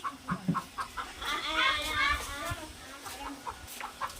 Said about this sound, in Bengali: এই যে আমার মুরগির খাঁচা দেখো গেটটা খুলতে সব বেরিয়ে গেছে